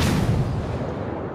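Single heavy boom of naval artillery fire in the World of Warships video game, a loud low blast that decays over about a second with no voices.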